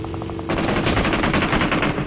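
Enemy gunfire in a battle royale video game: after a short lead-in, loud, rapid automatic bursts crackle continuously for the rest of the moment, close and dense with no talk.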